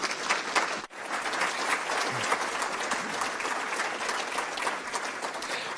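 An audience at a science panel event bursts into sustained, dense applause to welcome the host and panelists. The clapping is loud and even throughout, with no speech.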